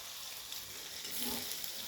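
Onion, ginger and garlic paste sautés in a hot pan while a paneer and green pea curry is made, a steady soft sizzle with faint stirring, fairly quiet and continuous, with no talking.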